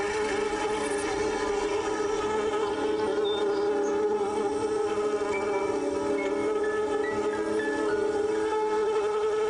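Worker honeybees buzz steadily around their hive, a continuous close drone of many wings holding even loudness throughout with no pauses.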